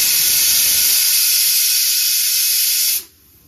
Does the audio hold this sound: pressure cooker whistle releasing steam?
yes